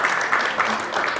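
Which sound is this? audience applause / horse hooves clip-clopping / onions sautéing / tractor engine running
audience applause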